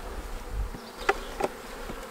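Honey bees buzz at an open hive during an April brood and feed check. There is a continuous soft hum, and two louder individual buzzes pass close by.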